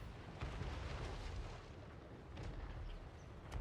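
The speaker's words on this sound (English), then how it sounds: "the just getting constantly blasted by artillery drove them off" Constant artillery barrages in a Total War Warhammer III battle rumble as deep, continuous booms, a dense low roar with overlapping blasts rolling on without pause.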